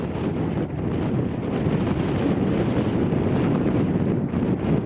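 Strong coastal wind roars steadily and close, buffeting the microphone in a continuous loud rush.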